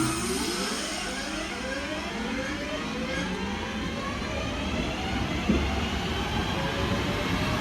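Class 323 unit 323219 pulls out of Poynton station bound for Manchester Piccadilly, a steady rumbling rail roar with rising electric motor tones that holds loud and close throughout, with a brief clank near the end.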